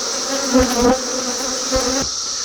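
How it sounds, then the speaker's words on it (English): A dense, steady buzz of honeybees swarming around a strong, healthy hive, loud and close, with individual bees droning louder as they pass near. "Look at the bees on that one."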